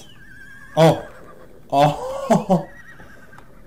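A called horse neighing in The Last Frontier, a short cry followed by a longer whinny with a few trailing snorts, loud and close, with a brief spoken exclamation alongside.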